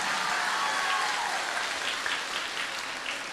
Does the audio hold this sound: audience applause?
yes